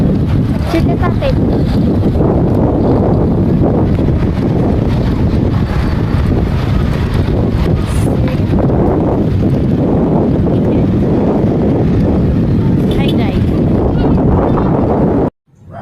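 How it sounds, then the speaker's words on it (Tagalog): Strong wind at Monte Maria buffets the microphone in a loud, continuous roar, with a rushing, wave-like background and faint voices buried underneath, ending abruptly. "ang lakas ng hangin. Kaya maririnig nyo ang lakas ng hangin."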